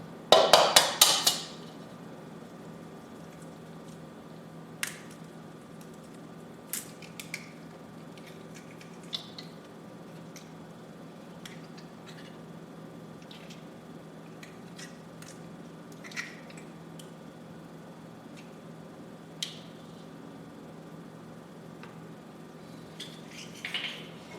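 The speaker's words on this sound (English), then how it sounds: "the next step in our recipe is to separate the egg yolks from the whites" Eggs cracked and yolks separated from whites in a kitchen: a sharp crack at the start, then sparse faint taps and clicks of shell against a bowl over a quiet hum.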